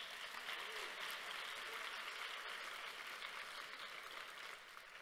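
Audience applause at a conversation event with an author, a steady dense wash of clapping from a large crowd that holds for several seconds and eases slightly at the end.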